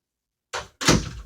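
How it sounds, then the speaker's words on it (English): A door being shut in a room, with a short scrape or latch sound followed a moment later by a louder, fuller thud as it closes, heard nearby with no talking. "Let me close the door."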